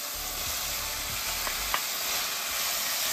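Pork and vegetables for a sweet and sour stir fry sizzle steadily in a hot pan while being gently tossed, with soft scraping and clattering bursts over a constant frying hiss.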